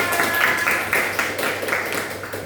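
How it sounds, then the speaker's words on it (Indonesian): A classroom group applauding, with a run of fairly even claps at a moderate distance, steady and lively across the whole stretch. "Oke, beri aplaus untuk kita semuanya."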